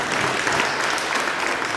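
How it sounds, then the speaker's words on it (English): Loud, dense audience applause honoring teachers, a continuous roar of clapping close by with no pause. "let's give a round of applause to teachers."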